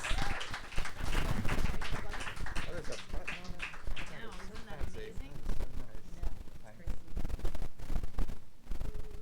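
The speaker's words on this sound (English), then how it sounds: "Another round of applause for Matthew James Scott." Audience applause for a performer at an outdoor garden open mic, dense close clapping with cheers and voices mixed in, holding steady before tapering slightly.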